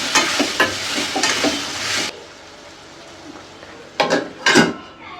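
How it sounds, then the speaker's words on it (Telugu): Spices tempering in a hot kadai for a home-cooked lunch of tomato charu and potato fry: loud crackling sizzle with stirring clinks, a sudden drop to a low hiss, then two bursts of stirring and spatter. "పోపు కోసం కొంచెం కడాయి వేడిన తర్వాత దాంట్లో పోపు వేసినాం"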